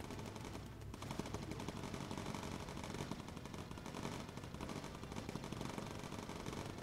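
Continuous rapid bursts of machine gun fire from a bomber's tail gunner in the video game Bomber Crew, dense and rattling, heard fairly faintly throughout.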